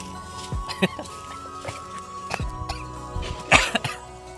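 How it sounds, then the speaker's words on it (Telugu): A man coughs from smoke several times in short, harsh bursts, close up, with brief pauses and some background noise between coughs. "పొగ వల్ల మాకైతే దగ్గు వచ్చేస్తుంది. మా ఆయన పాపం తెగ దగ్గేస్తున్నారు."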